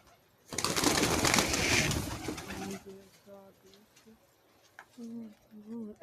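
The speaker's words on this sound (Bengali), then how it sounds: "আমাদের বাসায় এখন 44 জোড়া কবুতর" Pet pigeons kept at home, about forty-four pairs, coo in low repeated phrases after a loud burst of rustling, with some talk nearby.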